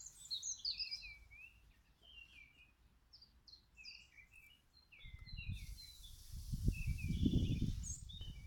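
Birds chirp and tweet in short, scattered calls throughout, and partway through a low crackling sizzle of bacon frying over a bed of coals in a Dakota fire pit rises beneath them and grows louder.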